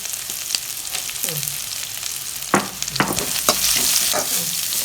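Cumin, onion, tomato and green chili fry in a pan for a snake gourd kootu, a steady close sizzle with a few sharper stirring scrapes and spatula knocks throughout.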